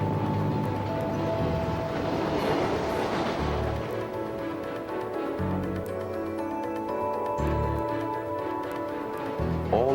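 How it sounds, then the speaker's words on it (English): A 1930s Zephyr streamliner train runs along the rails on its 1,000-mile dash to Chicago, a steady, continuous rumble and rush with rhythmic low thumps of wheels on track, loud and sustained throughout. "the fastest train dash ever made."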